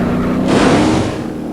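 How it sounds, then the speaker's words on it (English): A drag-racing muscle car launches in BeamNG.drive, a loud engine roar that swells into a broad revving blast and holds steady. "This car launches."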